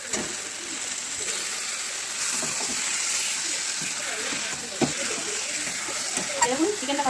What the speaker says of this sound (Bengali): মশলাটা কষানো হয়ে গেছে, আমি চিকেনগুলো দিয়ে দেবো।